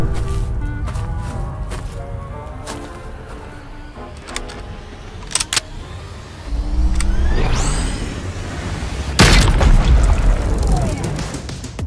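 A dirt explosion effect from a short film: a rumbling booming blast with scattered crashing debris and a sweeping whoosh, building to a loud burst near the end over continuous background clutter.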